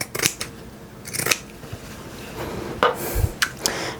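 Scissors snip through cotton fabric in a few sharp, close cuts separated by short pauses, with light handling noise between them.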